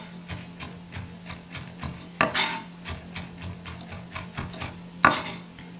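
A knife chops a big piece of raw garlic on a cutting board in a steady, rapid rhythm of close taps, broken by a couple of louder scraping knocks, with no talk.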